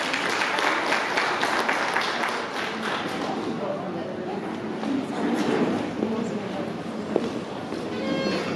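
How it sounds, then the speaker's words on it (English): Applause from a women's agribusiness conference audience, steady broadband clapping filling the room for several seconds after a speaker is introduced, with some chatter mixed in. "A round of applause for her."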